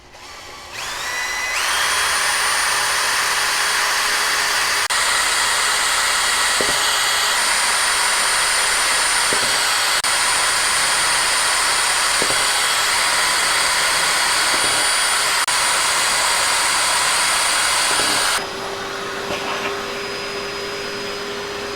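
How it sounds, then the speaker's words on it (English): A handheld power drill bores string-through holes in a Telecaster guitar body, a loud, steady high whine running for about sixteen seconds with brief bumps, then cutting out to a quieter hum. "We are just going to hand drill it."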